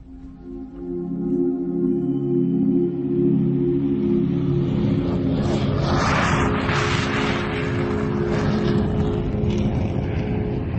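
Airplane flying in a radio drama production, a steady broad engine roar that swells in and then holds, loud and continuous with no voices.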